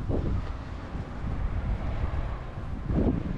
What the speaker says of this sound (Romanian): doar că bate vântul cam tare